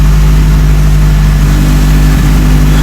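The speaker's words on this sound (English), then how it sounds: "It's idling like a champ." A big block Mitsubishi Evo9 with a PTE 64mm turbo, built to 900 hp, idles loud and close with a steady, rumbling drone and a tiny flutter near the end, with no talking.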